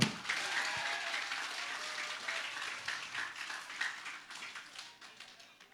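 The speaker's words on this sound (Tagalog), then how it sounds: "Kaya isang palakpak o isang bagsak para kay Mike Defensor." Crowd applause at a political rally, steady clapping that stays at an even level throughout and fades slightly toward the end, with no voices over it.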